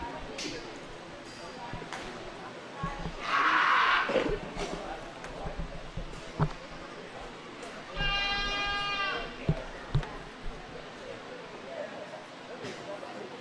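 Goats bleat in a loud, wavering cry and then a second tremulous call at a livestock show goat showmanship ring, heard amid a busy arena murmur of crowd voices and scattered knocks and clatter.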